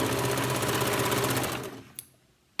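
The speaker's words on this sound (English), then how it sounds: "I'm just going to use my serger this time because it's faster and because it's better for apparel." A serger runs fast to stitch the seams of a fabric circle skirt, giving a loud, steady mechanical whir with rapid needle chatter. It spins down around the two-second mark and is followed by a couple of sharp clicks, with no talking.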